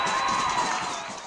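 A large crowd roars and cheers loudly and continuously at an Australian football match between Hurstbridge and Banyule, a broad sustained wash of voices, with a whistle-like tone threading through it.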